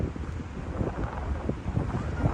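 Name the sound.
wind blowing between city buildings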